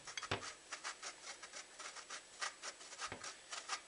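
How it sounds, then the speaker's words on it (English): Rock-hard coconut grated by hand, with rhythmic rasping strokes repeating about three times a second, close and fairly quiet, with no talking. "So I'm literally just going to grate it in."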